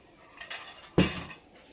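Dal ladled from a pot onto a plate at a home lunch, heard as a soft scrape followed by one sharp metallic clink of spoon against dish, close and quiet.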